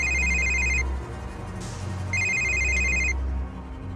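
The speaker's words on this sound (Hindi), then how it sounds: "एक टेलीफोन की घंटी बजने लगी।" A telephone bell rings loudly in two long bursts separated by a short pause, over a low droning background.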